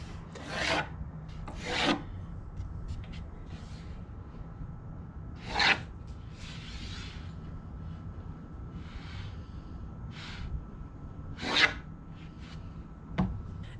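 A pencil scrapes over a 6-foot wooden board, sketching cutting-board outlines freehand in scattered short rasping strokes over a steady background hiss.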